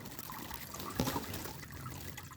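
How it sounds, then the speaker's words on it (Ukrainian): A small mountain stream in the hills near Bergen, Norway, trickles steadily as a soft, continuous wash of running water, faint and close, with no voices. "спостерігаємо наших овечок також струмочок, який тече в наше озеро"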